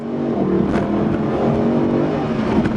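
The 6.2-liter V8 of a Mercedes SLS AMG GT runs loud and close, holding a deep, steady rumbling drone throughout with only slight rises in revs.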